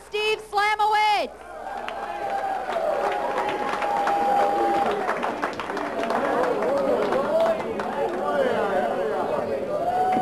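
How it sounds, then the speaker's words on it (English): An audience at Governors Comedy Club gives comedian Stephen Slamowitz a sustained round of steady clapping that follows a brief voice at the start, with some crowd chatter mixed in. "that applause going for Steve Slamowitz"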